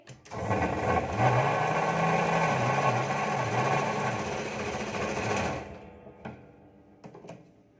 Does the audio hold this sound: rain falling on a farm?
no